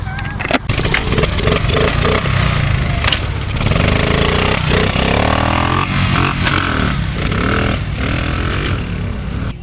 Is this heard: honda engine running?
yes